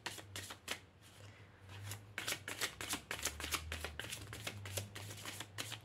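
Oracle cards shuffled for a reading make repeated crisp riffling flicks in an uneven rhythm, close and fairly quiet over a low background hum.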